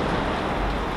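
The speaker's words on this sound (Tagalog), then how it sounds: "Umuulan guys." Rain falls outside a home, a dense, steady hiss of drops that is loud and continuous throughout, with no voices.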